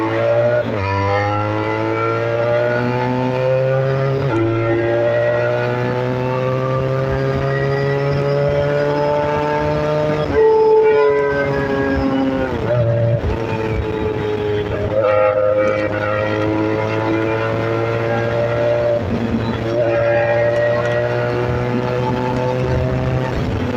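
Motorcycle ridden along the Kashmir highway in Pakistan, its loud engine note climbing steadily in pitch through several gear changes, with brief dips between shifts and no voices.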